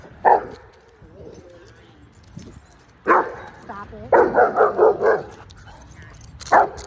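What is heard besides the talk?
dogs barking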